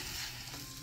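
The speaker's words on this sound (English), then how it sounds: "I'm cooking pansit canton." Pancit canton noodles sizzle and fry outdoors, a continuous, fairly loud hiss with faint stirring texture and no talking.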